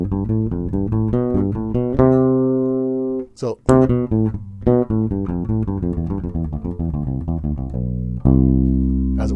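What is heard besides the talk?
musical scale played in repetitive thirds on bass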